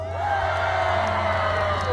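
Concertgoers living in Cheongna, at a performance, cheer and whoop together in a dense, continuous wash of shouting that holds at an even, moderately loud level throughout.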